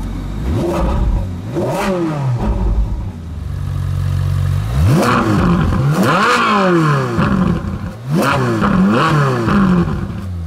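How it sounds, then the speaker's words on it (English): A Ferrari 458 Spider's engine blips and revs loudly up close, several sharp rising-and-falling throttle bursts separated by a short idle rumble, with no voices. "Reverse, put the gearbox in auto, launch control, the obligatory little blip"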